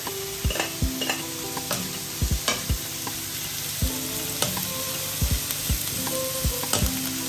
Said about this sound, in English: So this is now heating up. I'm just gonna put the onions in.